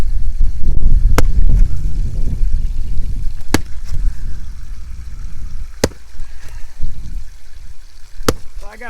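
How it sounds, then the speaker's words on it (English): Sharp isolated cracks of a hammer striking a fossil calcite clam crystal rock to break it apart, four or five separate blows spaced seconds apart outdoors over low rumbling wind and background noise. "I'm gonna start by whacking this thing right here and see how it breaks apart for me."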